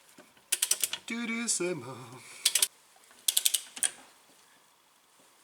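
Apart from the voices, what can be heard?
tightening wheel studs on a car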